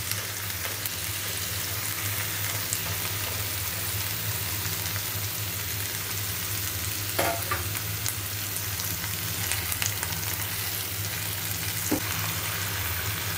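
Spices with onion and garlic paste fry in a pan as tamarind is added, producing a soft, continuous sizzle with a couple of brief stirring scrapes, heard alone at low volume.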